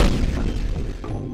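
Bomb blowing up in the block-toppling game Boom Blox: Bash Party: a short, loud, deep boom with a brief crumbling tail, heard alone.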